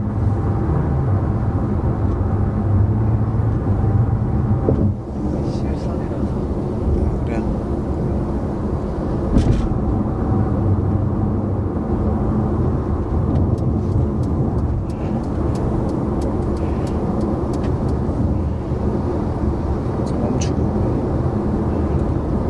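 A Mercedes A-Class drives through a left turn with no car ahead, giving a steady, close interior engine and road drone that runs the whole time, with people talking over it.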